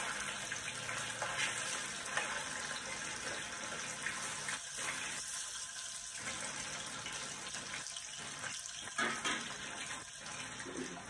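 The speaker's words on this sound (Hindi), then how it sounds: "इसको शैलो फ्राई करना है।" Fish shallow-frying in a pan for a Bengali curd fish curry gives a steady, quiet, hissing sizzle that continues throughout, with small dips and swells and no voices.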